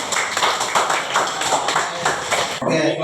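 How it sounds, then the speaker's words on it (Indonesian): Students in a classroom clap their hands in a short burst of rhythmic, closely spaced claps, loud and near, ending abruptly after about two and a half seconds as room noise takes over. "Ya, tepuk tangan."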